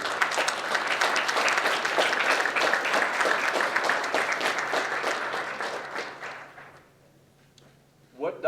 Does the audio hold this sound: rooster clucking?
no